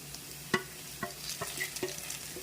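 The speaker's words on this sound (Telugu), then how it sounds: "ఇంకా కొంచెం ఫ్రై చేద్దాము" Grated radish chutney with chopped coriander frying in a pan, a soft sizzle with several distinct clinks and scrapes of a spoon stirring it, close and fairly quiet.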